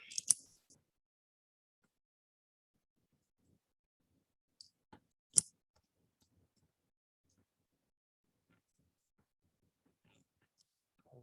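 The clay extruder nozzle of a DIY ceramic 3D printer is snipped. A few crisp, quiet cutting clicks come one at a time, spread apart by long stretches of near silence.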